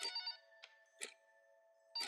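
An office desk telephone in a cubicle rings in short electronic trilling bursts, alone in a quiet room, with steady tonal hum between the rings.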